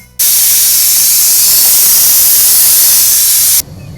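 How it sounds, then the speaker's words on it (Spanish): Loud, steady steam hiss bursts out as the lid comes off a pot of Colombian sancocho, starting abruptly, holding at an even, harsh level for over three seconds, then cutting off sharply. "voy a destapar la olla, ¿vale?"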